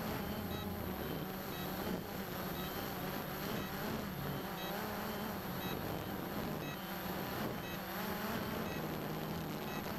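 A Cheerson CX-20 quadcopter drone flies outdoors, its motors making a continuous faint whine that rises and falls slightly with throttle changes, with light wind noise.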